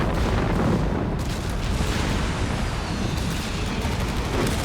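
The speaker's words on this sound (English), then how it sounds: "Heavy mortar, air burst." Heavy mortar air bursts rain down in a Company of Heroes 3 battle, heard as a dense, continuous rumble of booms and blasts that is loud and close.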